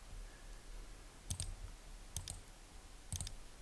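Quiet computer mouse clicks come in three small pairs at roughly one-second gaps while the Shift key is held, against faint room hiss.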